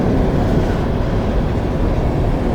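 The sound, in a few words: long coal train passing in Mount Hope, West Virginia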